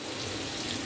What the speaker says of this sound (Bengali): এবার একটু জল দিয়ে দেবো সামান্য।